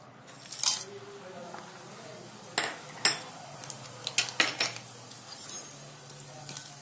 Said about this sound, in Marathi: आपण सुके मसाले त्याच्यात टाकून घेऊ.